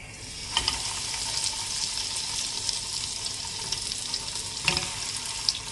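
Bread slices with egg frying in oil in a pan, a soft, steady sizzle with occasional crackles and a couple of sharper pops, faint and close, with no talking.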